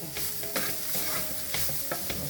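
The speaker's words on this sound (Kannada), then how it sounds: "ಫ್ಲೇಮನ್ನು ಆಫ್ ಮಾಡಿಕೊಂಡು ಇದನ್ನು ಈ ಥರ ನಾವು ಇವಾಗ ಮಿಕ್ಸ್ ಮಾಡ್ಕೊಬೇಕು" An onion breakfast dish is stirred in a pan over a switched-off flame, with a soft continuous sizzle and repeated sharp clicks and scrapes of a spoon against the metal, close and without talk.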